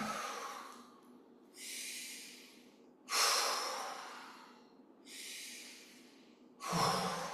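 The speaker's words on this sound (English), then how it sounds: "Breathing." Slow, audible breaths during a qigong exercise for the heart: long airy inhales and exhales alternate in a steady rhythm, close and soft, with no talk over them.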